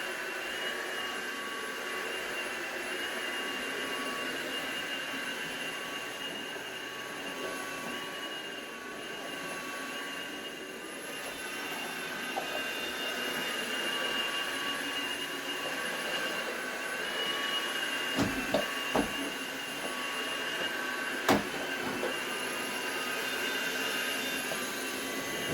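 A vacuum cleaner runs steadily for a long stretch, sucking up household debris and loose threads, with a few brief clicks and bumps as the nozzle reaches into corners.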